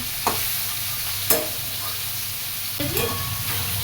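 Potatoes and pointed gourd frying in a pan give a steady loud sizzle, broken by three sharp scraping stirs spaced about a second apart.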